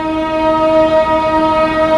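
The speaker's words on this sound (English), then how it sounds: "I don't know if you can even hear me because of this train." A passing train near the ruins of Winyard High School in Georgetown, South Carolina, holds one long, loud horn blast that stays steady and dominant throughout, with no talk over it.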